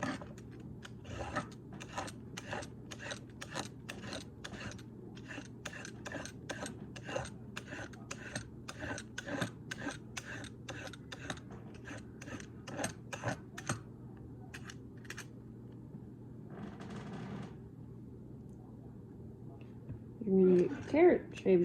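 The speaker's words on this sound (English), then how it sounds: "You're gonna peel your carrot." Quick, light scraping strokes of a peeler working down a carrot, repeating in a steady rhythm close by. A faint voice is heard near the end.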